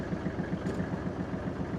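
A Kubota GL25 small diesel tractor engine chugs steadily while the tractor moves, with a regular, rapid thumping rhythm, running continuously at moderate loudness.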